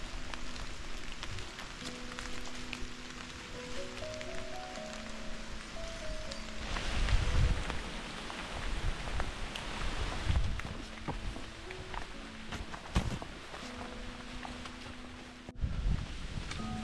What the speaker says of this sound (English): as the rain continues to come down and the wind picks up